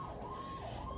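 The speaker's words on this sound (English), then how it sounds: "We got sirens." A distant emergency vehicle siren wails steadily at a moderate level through a brief stretch of background noise, with no voices over it.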